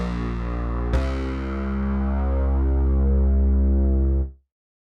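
A cyberpunk bass pad synth built in Xfer Serum with dimension and distortion effects, a thick sustained harmonic tone with a sharp attack partway in, swelling slightly before cutting off cleanly after about four seconds.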